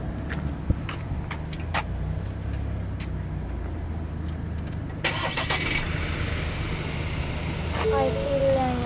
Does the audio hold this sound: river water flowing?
no